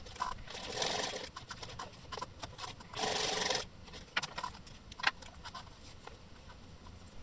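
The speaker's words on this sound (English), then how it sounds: "Take your cut waistband and sew the ends together with a 1 centimeter seam allowance" Sewing machine stitching the ends of a boxer shorts waistband together in short bursts, a brief whirring run around the first second and a louder steady run near the middle, with rubbing and handling noises between.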